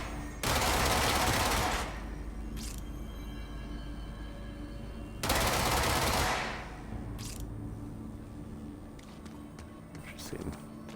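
Bursts of rapid automatic gunfire from the video game Control, two loud sustained volleys a few seconds apart with quieter ambient rumble and scattered mechanical clicks between them.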